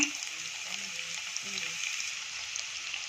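Chopped onion and dried chilies fry in ghee with a soft, steady sizzle, faint and close, while a voice talks quietly over it.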